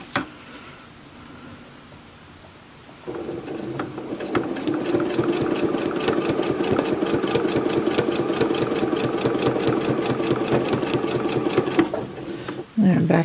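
A low shank domestic sewing machine fitted with a ruler foot stitches steadily along a quilting ruler, a fast even mechanical rattle starting after a quiet moment and running continuously to near the end.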